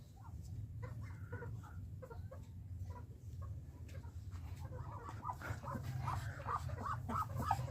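Several chickens cluck and murmur nearby, their calls growing busier toward the end over a low rumbling background.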